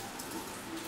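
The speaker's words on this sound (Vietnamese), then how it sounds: "Mưa này là người ta hạn chế đi lại." Steady rain patters on surfaces outdoors on a holiday morning, an even soft hiss with faint scattered drops and no voices.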